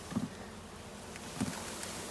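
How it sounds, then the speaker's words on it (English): Honeybees, about 15,000 of them, buzzing faintly as they are dumped into a hive, a soft low drone with two slightly stronger swells. "Woo, look at all those bees."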